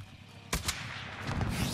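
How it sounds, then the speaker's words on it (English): Gunfire in Call of Duty Warzone, a couple of sharp shots close together, then rumbling game ambience. "They're shooting at us."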